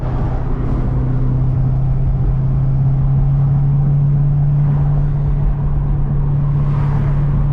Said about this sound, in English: I'm currently sitting in my Corvette, you know, going through the hills